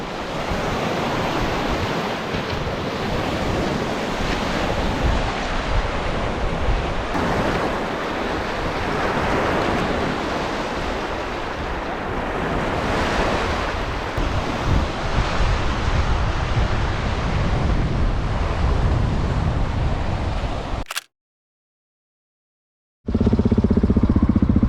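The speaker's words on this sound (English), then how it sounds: "There's some serious wind today, but that's cool. It makes you feel like you're at the ocean. There's some serious waves." Strong wind roars across Lake Mohave, with waves breaking on the shore and gusts buffeting the microphone in a constant loud rush. Near the end it cuts to silence briefly, then returns.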